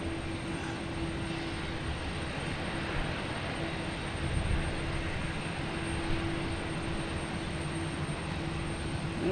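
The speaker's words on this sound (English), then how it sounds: "JetBlue E190 heading to DC." JetBlue Embraer E190 jet airliner departing Boston Logan Airport, a steady broadband engine roar holding at moderate level throughout with a sustained tonal whine, no talk.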